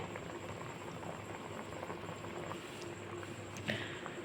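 Besan gatta dumplings fry in oil in a pan over a medium gas flame, giving a steady, dense crackling sizzle that runs throughout with one brief sharper pop near the end; no voices.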